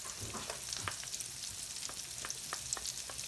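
Chopped shallots hit a hot frying pan with a steady sizzle and crackle, close and even throughout, with small scraping clicks of stirring scattered across it and no voices.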